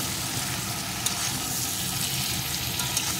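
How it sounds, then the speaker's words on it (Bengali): Cut bitter gourd pieces fry with a little salt in hot oil, giving a dense, even sizzle that holds steady and close throughout, with a few faint clicks on top. "এখন উচ্ছেগুলোকে আমি সুন্দর করে ভেজে নেব।"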